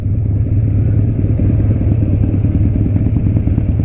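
A Harley-Davidson Tri-Glide three-wheel motorcycle rumbles steadily nearby, its low engine note throbbing continuously and loudly with no talk over it.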